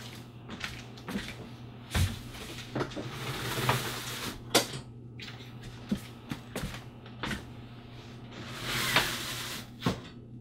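Custom roller shades for the front windows of an RV being pulled and released, giving a series of short clacks, rattles and soft rolling sounds spread across the clip, fairly close, with no talking.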